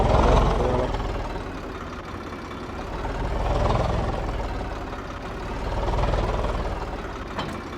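A tractor engine idles in Farming Simulator 22 with a steady, low, rhythmic chugging that swells and eases in slow waves; no voices.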